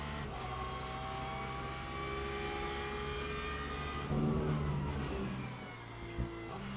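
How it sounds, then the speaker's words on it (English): Porsche race car engine in Le Mans Ultimate at Bahrain, a steady sustained engine drone heard on board with a rising, revving surge near the end. "Let's look on board with Alu now. In this lovely glowing Porsche."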